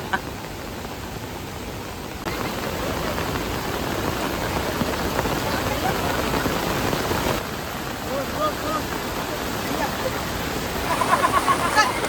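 Heavy monsoon rain pours down over a Konkan village in Sindhudurg, a constant dense hiss of drops on surfaces that keeps going for the whole stretch, with faint speech briefly audible through it.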